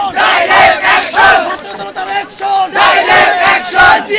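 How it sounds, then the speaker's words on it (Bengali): Protesting students chant slogans in unison in front of soldiers at Dhanmondi 32: a loud crowd shouting in a steady, repeated rhythm, call after call with short pauses between. "সাধারণ শিক্ষার্থীরা আবারও ফুঁসে উঠেছেন এবং তারা কিন্তু আবারও স্লোগান দিচ্ছিলেন"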